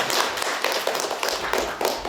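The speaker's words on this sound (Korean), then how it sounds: "큰 박수 한번 쳐주시기 바랍니다" Audience at an awards ceremony and talk show clapping in a brief burst of applause, sharp irregular claps with no talk over them.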